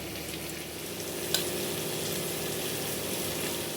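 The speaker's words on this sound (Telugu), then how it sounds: "కాలీఫ్లవర్ బాగా వేగుతుందండి" Cauliflower fries in hot oil with a steady, loud crackling sizzle, one faint knock partway through and no voices.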